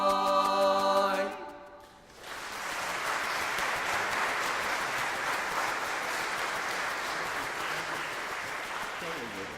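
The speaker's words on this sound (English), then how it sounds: "If you keep clapping like that, you'll be in serious trouble." An audience claps loudly and steadily for a barbershop quartet in New Orleans, a dense sustained wash of applause that follows the end of a sung chord.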